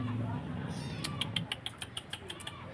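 A rescued stray kitten meows in a quick series of short, high, insistent cries, close to the listener, after a brief quieter stretch.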